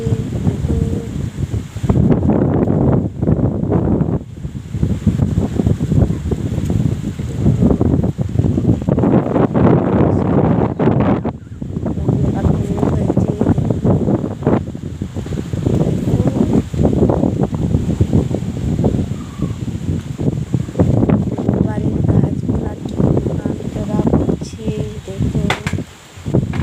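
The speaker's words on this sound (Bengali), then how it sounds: "দেখো প্রচণ্ড তুফান বৃষ্টি।" Strong storm wind with rain blowing outdoors, gusting roar and buffeting against the microphone in surges that rise and drop across the clip, loud and close.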